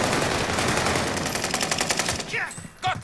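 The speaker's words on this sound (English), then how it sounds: "They're shooting me!" Rapid automatic gunfire in an online shooter video game, a dense, loud burst of rattling shots filling most of the moment before cutting off, with brief voice fragments at the end.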